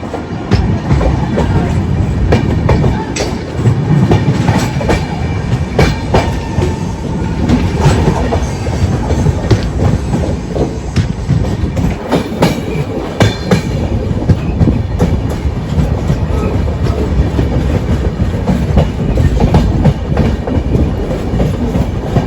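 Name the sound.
train at a railway station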